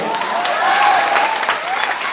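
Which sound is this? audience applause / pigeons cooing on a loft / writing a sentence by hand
audience applause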